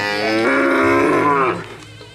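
A bull raised for racing in an Indonesian village lets out a long, loud, close moo that holds steady for over a second and then tails off, with no talk over it.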